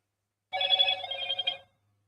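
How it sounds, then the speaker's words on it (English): A phone rings once with a short electronic trill, a bright warbling tone lasting about a second, moderately loud against silence. "And that was my phone."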